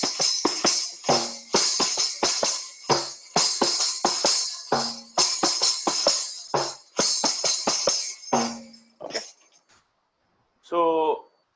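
Kanjira frame drum played in a repeating looped rhythm for Sai bhajan accompaniment, a steady series of sharp slaps and jingle-rich strokes, close and fairly loud, ending with a brief pause and a short ringing tone.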